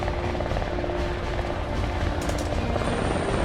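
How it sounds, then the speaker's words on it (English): A small unarmed U.S. Marine helicopter in flight, a loud continuous rotor drone and throb filling the air without any speech. "Captain Frank Wilson from Jerome, Arizona, flew his small unarmed helicopter through heavy ground fire into enemy territory"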